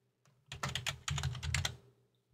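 Typing on a computer keyboard, two short bursts of quick, crisp key clicks heard close and alone in a quiet room.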